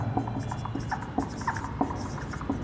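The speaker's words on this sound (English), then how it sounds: "So we can write" Chalk or marker strokes scratching across a board during a biology lecture, a series of short irregular taps and scrapes at close range, with no talking.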